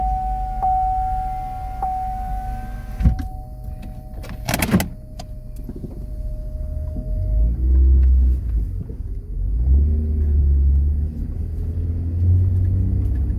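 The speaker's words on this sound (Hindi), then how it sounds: "गाड़ी का साउंड चेक करें आप।" A new car's engine rumbles steadily at close range, with a thin electronic chime sounding at first and a short clatter partway through, followed by deeper swelling revs toward the end.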